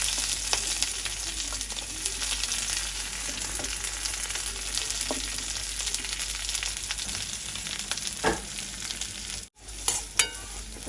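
Onions and green chillies frying with mustard seeds and cumin in hot oil, a loud continuous sizzle with occasional stirring scrapes and clinks near the pan.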